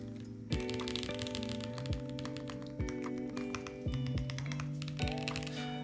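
Busy mechanical keyboard typing, a quick run of crisp clicks under a steady background hum, close and moderately quiet.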